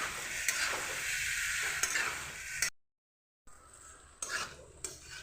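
Egg chow mein noodles stirred with soy sauce in a hot pan: steady sizzle with scraping stirs and clicks, a short silent gap midway, then quieter frying and tossing.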